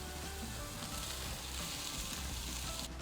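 Sliced onions fry in oil for a creamy chicken dish, giving a dense, continuous sizzle that is close and steady throughout, with no one speaking.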